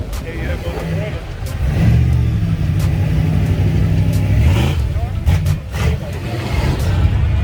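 A classic car engine runs at a Cruisin The Coast 2020 car show on the Mississippi Gulf Coast, giving a steady, close, low rumble that swells briefly. People talk over it throughout.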